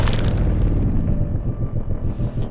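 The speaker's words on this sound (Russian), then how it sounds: "Вертолеты тоже, кажется, взрываются." A deep, heavy boom from a helicopter exploding in Sniper Ghost Warrior Contracts 2 rolls out and rumbles away over a couple of seconds, loud and close.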